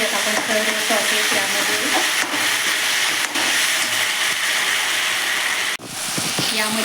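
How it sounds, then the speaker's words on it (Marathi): Soya chilli being stirred with tomato ketchup and other sauces in a hot pan over a high flame: a continuous loud sizzle with repeated scraping strokes and a few sharper spatula knocks. "व्यवस्थित मिक्स करून घेऊयात आपण सर्व सॉसेस"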